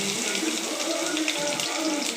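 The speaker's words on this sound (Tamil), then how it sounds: "உளுத்தம்பருப்பு கொஞ்சம் போட்டுக்கலாம். நல்லா பொரிஞ்சு வரட்டும்." Urad dal spluttering in hot oil for a drumstick leaf and egg stir-fry, a steady dense crackle and hiss held close and even throughout with no pause.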